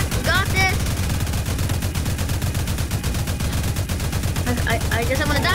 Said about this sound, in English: These mini gunners are doing a good job.